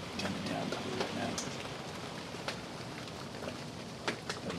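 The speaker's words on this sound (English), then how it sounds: "I was hoping that it would rain harder, just getting like a nice steady medium kind of down to it right" Steady medium rain falls on a surface, a dense even hiss with scattered sharper drips and taps, close and continuous throughout with no voices.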